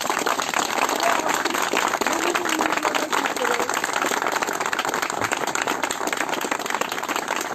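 Loud, sustained applause from a crowd at a gathering in Küçük Armutlu, Istanbul, fills the whole stretch, dense clapping without pause.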